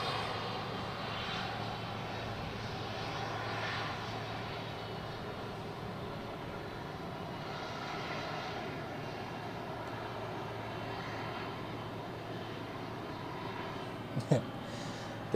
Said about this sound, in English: now he taxis to the other side of Dock E